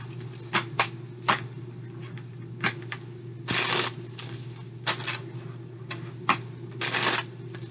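Tarot cards shuffled by hand in a quiet room, a series of short riffling bursts and a couple of longer shuffles, close and fairly soft over a steady low hum.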